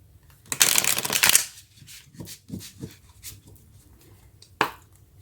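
Tarot cards being shuffled by hand in a quick, crisp riffling burst up close, followed by softer scattered card handling and a few light taps.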